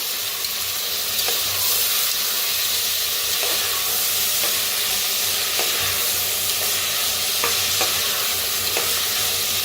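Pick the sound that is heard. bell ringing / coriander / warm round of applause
coriander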